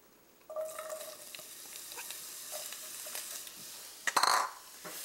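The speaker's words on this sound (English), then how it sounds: "coat the pan with it, and add a cup of sliced onions" Sliced red onions hit hot cooking oil in a pan and sizzle steadily, with a few stirring scrapes and clinks and a brief louder burst of frying near the end.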